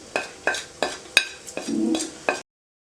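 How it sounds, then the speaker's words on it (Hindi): Cumin, nigella, mustard, fenugreek and fennel seeds frying in hot oil, heard as a series of short stirring clinks and scrapes against the pan at a steady pace, with a brief soft sizzle, close and quiet. "10 सेकंड के लिए इसको फ्राई करें।"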